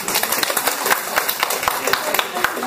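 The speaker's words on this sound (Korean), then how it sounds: "박수로서 우리 격려해 주시죠" Applause from an audience at a lecture given by a Catholic priest, a steady patter of many hands clapping with irregular sharp claps, fairly close and continuous.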